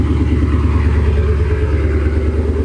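A Mustang fitted with an aftermarket exhaust idles close by with a deep, steady, throbbing rumble and a faint mechanical clatter. The sound stays even throughout with no revving.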